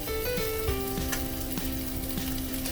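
Lemon garlic shrimp with zucchini and white wine sizzle steadily in a pan, a close, continuous frying crackle with faint stirring taps.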